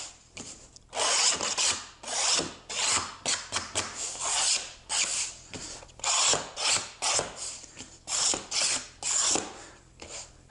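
A sharp putty knife beveling the edge of Formica laminate, giving repeated short scraping strokes in a steady rhythm, close and fairly loud, with no talking.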